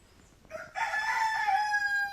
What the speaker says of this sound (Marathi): कोंबडा आरवतोय.